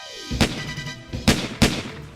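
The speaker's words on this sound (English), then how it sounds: "Then they heard gunshots." Three sharp gunshots crack out, one early and two close together near the end, with a faint rumble between them.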